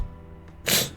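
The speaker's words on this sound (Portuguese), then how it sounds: "Ai, vontade de espirrar" A single human sneeze, a quick sharp burst after a brief inhaled build-up, close and loud, with no talk.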